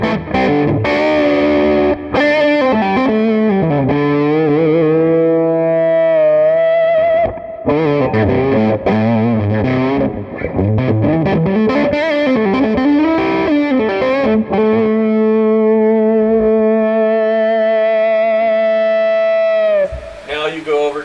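Saturated, overdriven electric guitar through a Bogner Alchemist 212 amp switched to 20 watts, with sustained chords and melodic bends played loud and close, ending in a brief pause and final strum.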